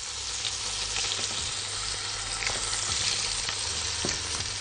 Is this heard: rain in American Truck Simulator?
no